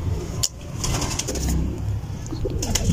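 Pigeons coo in a loft or rooftop coop, a low steady murmur of several birds close by, with a brief sharp noise near the start and faint traffic in the background.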